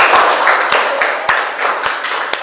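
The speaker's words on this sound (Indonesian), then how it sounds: "Ya, tepuk tangan." A school class claps in a loose, uneven round of applause, several distinct sharp claps standing out over a softer patter that gradually thins out.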